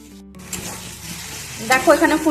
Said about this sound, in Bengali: এখানে ফুলকপি আলুর ঝোল করব, মশলাটা কষাচ্ছি